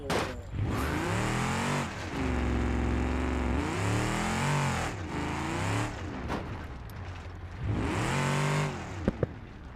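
A car engine with a torque converter in BeamNG.Drive revs up and down repeatedly, rising and falling in long loud sweeps with brief drops between, ending with a couple of sharp clicks.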